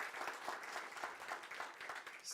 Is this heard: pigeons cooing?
no